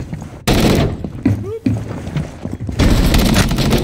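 Gunfire in a video game shooter, loud close bursts of rapid shots in two long stretches with a gap between, dense and continuous rather than single reports.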